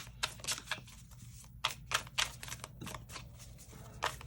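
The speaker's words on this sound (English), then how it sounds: "All right, one more shuffle." Rapid papery riffling of tarot cards being shuffled close by, in several quick bursts with short pauses, over a low steady hum.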